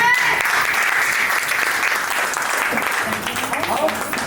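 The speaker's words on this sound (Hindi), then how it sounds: "जोरदार तालियों से।" Dense, sustained applause from an audience welcoming a speaker onto the stage at a franchise launch event in Ayodhya, loud and continuous throughout with no break.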